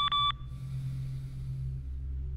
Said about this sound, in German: Hör auf zu piepsen.